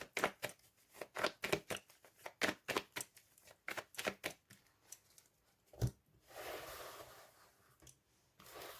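Tarot cards shuffled and drawn, a run of crisp rapid card snaps and flicks up close, followed by a softer sliding shuffle at the end.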